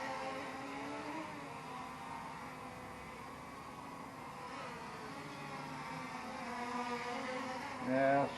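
A GoolRC K-Eagle D76 RC plane flies outdoors at speed, its small motor giving a steady buzzing whine that holds at moderate distance and swells briefly near the end.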